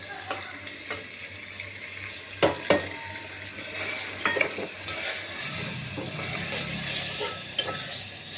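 Spices, salt, coriander powder, turmeric and red chilli stirred into tomatoes in a pan for chole pulav, with a soft steady sizzle, scattered spoon scrapes and a few sharper knocks against the pot.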